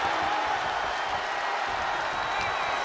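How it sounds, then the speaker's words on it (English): Steady, dense roar of an arena crowd in the WWE 2K23 wrestling game during an eight-man battle royal, cheering continuously at even loudness throughout. "What a raucous crowd here tonight."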